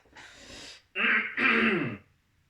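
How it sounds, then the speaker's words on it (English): A man clears his throat with a breathy rasp followed by two rougher, voiced guttural bursts, close and isolated. "Clear my throat first."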